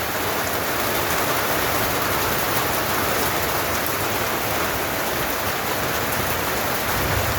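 Heavy rain pours steadily in Tocoa, a dense, constant hiss of water drumming on surfaces that fills the whole scene without a break and with no voices.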